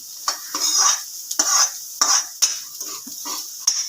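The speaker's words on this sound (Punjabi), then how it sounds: "2 ਮਿੰਟ ਇਹਨੂੰ ਇਦਾਂ ਹਲਾ ਕੇ ਭੁੰਨ ਲੈਣਾ" Carrots and peas roasting in a pan for upma, sizzling steadily while a spoon stirs and scrapes the pan in repeated strokes, close and clear.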